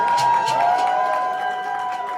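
Audience applause and cheering at a vaccine rights and injury awareness event in Albany, New York, a short burst of clapping with raised voices over a sustained tonal hum.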